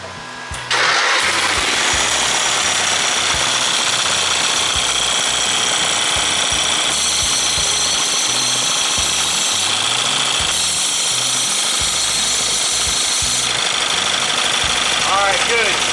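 A Murray lawn tractor engine, part of a mud mower build, cranks and catches, then runs loud and steady with a rough, knocking idle close by, while people talk over it.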